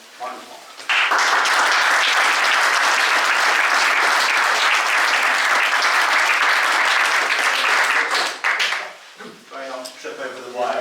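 An audience at the Corrymeela Climate Conference 2024 applauds to welcome a speaker. The loud, dense clapping lasts about eight seconds, then thins out as a voice begins.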